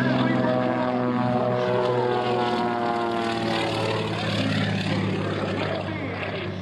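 A propeller aircraft drones steadily overhead, its engine tone shifting slightly in pitch as it passes, loud and continuous throughout, at a 2004 Rhode Island Air National Guard open house air show.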